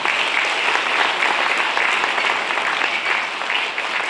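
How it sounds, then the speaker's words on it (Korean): Steady, dense applause from a lecture audience, a large crowd clapping loudly and evenly throughout without pause. "우리 큰 일을 하고 계시는 황교안 총리님께 박수 한번 보내주면 어떻겠습니까?"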